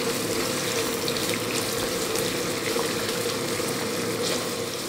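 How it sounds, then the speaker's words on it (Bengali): Chopped onions fry in a pan as a dense, even hiss that holds steady throughout with only faint texture changes, close and without talk. "পেঁয়াজটার রং পরিবর্তন হওয়া পর্যন্ত আমরা এটাকে ভেজে নিব"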